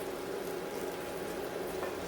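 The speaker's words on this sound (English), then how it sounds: "Put my heat on high so the onion can cook a little quicker." Onion sautéing in oil over high heat for Portuguese rice, a steady close sizzle and crackle of frying that stays even through the short stretch, without talk.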